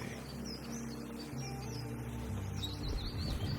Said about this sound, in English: There's a bird party going on here.